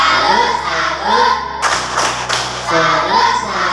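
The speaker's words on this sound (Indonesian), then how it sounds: "Kita tepuk salut untuk kita semua." An elementary school class claps a rhythmic 'tepuk salut' chant together, bursts of hand claps and children's voices filling a room, loud and close with a brief louder surge of shouting in the middle.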